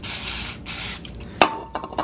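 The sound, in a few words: spraying brake cleaner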